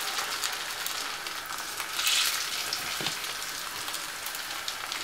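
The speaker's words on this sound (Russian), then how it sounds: "Разогреваем масло и выкладываем капустные шницели в сковородку." Cabbage schnitzels sizzle in hot oil in a frying pan, a steady bright crackling hiss with small pops, close and continuous for several seconds.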